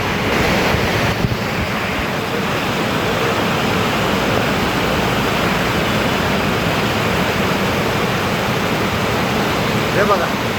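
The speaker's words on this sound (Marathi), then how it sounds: "ही स्टार्ट आहे धबधब्याची" Water rushes at the start of Amboli waterfall by its stone steps, a loud, unbroken hiss-and-roar filling the whole span with no talk over it.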